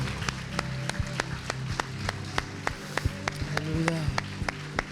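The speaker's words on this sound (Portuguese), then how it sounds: "Você pode aplaudir ao Senhor" A congregation claps in steady rhythm during a Portuguese-language Sunday church service, crisp evenly spaced claps over a low musical hum and faint voices.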